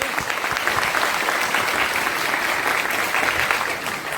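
Loud, dense applause from an audience at a motivational mindset seminar, steady and sustained throughout with no break.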